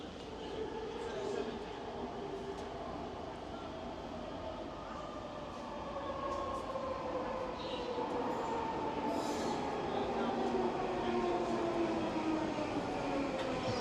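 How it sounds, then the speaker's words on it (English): A packed subway train pulls in on a Vancouver transit line and keeps running, with steady rumbling, squealing wheels and rail noise at close range holding level throughout without a break. "Here's our train."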